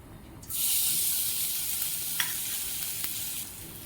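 Garlic and ginger paste dropped into hot oil, a sudden bright sizzle that bursts in and holds steady, with a couple of light utensil taps, close and fairly loud.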